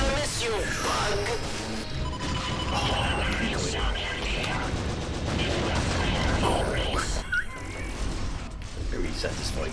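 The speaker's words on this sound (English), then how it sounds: "Very satisfying explosions." Dense, continuous space combat noise from the video game Wing Commander Prophecy, with rapid booming explosions, crackling gunfire and mechanical clatter, while someone talks over the chaos.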